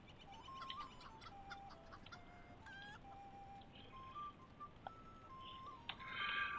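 Chicken in the Lord of the Rings Online video game clucking faintly, short scattered chirps and clucks at a low level over soft ambient game noise, with no talking.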